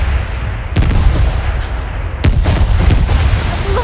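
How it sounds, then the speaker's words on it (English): Fireworks sound effect in a stage production of The King and I: several sharp cracks and booming bursts pop at irregular intervals over a steady crackling, rumbling bed, loud and near. "Fireworks at this hour of the morning."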